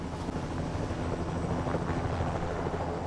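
A helicopter rumbles steadily in Tony Hawk's Pro Skater 1 & 2 on the PS5, its low rotor drone continuous and fairly close, with no talk over it.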